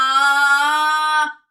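A single sustained sung note, loud and pushed like a shout, held steadily with a bright, spread-out tone for over a second before cutting off.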